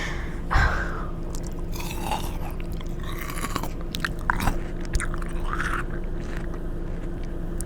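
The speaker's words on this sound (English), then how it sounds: "If you don't like eating sounds and mouth sounds, I'm sorry." Close, intimate mouth sounds of eating and chewing, with soft crunches, wet smacks and small scrapes spread through a quiet steady background hum, heard alone without talk in a whispered ASMR setting.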